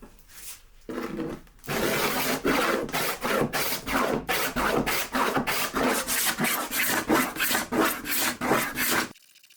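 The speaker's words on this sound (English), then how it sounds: "The scraper did a pretty good job of removing most of the paint." A hand scraper strips green paint from a 1920s Art Deco wooden dresser in about fifteen rhythmic, rasping strokes. The scraping is close, loud and even, with no talking.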